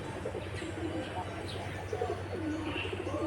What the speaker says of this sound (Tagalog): Yan ang tinatawag na Nicobar pigeon.